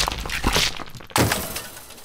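A stone smashes a statue in a LEGO animation: a loud, sudden crack and crumbling thud cuts in midway through the clip, following a rumbling, shuffling lead-in, then fades into a brief rubbly tail.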